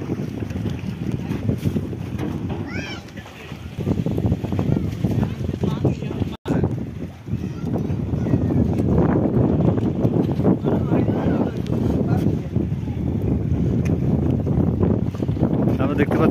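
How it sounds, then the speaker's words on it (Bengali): A trawler at the Raenda ferry ghat in Bangladesh churns with a low, continuous engine rumble mixed with wind buffeting the microphone, with one sharp break partway through. "এই হচ্ছে ট্রলার।"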